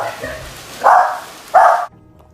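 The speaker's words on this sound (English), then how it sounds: "This dog's barking at you." Dog giving two sharp, loud barks close by, a short pause between them, after some soft vocal sounds.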